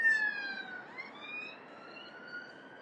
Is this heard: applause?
no